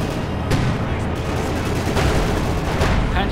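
Company of Heroes 2 battle with Panzer IV tanks facing Soviet infantry, a dense continuous rumble of gunfire and distant explosions in a loud, unbroken mix, with a commentator's voice faintly present.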